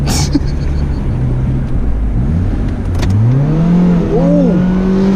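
A manual Honda Civic accelerates hard on a road in Mexico, the engine note climbing, dropping through a downshift and rising again, loud and close.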